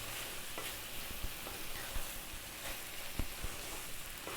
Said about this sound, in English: Now let's get in our cold cooked rice. Just breaking it up there.